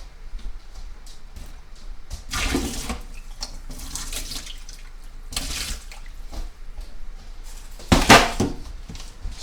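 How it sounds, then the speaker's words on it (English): Excess water tipped out of a pot of potatoes into a sink, several close, splashing pours in bursts, with the loudest gush near the end. "I've got a little too much water in there. I'm going to go ahead and pull some of that water out."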